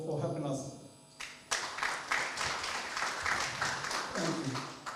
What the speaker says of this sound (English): please give them a hand of applause for helping us.